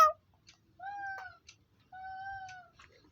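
A voice imitates a cat's meow twice, two drawn-out, even mewing calls close to the ear with short quiet gaps between them in an otherwise quiet room.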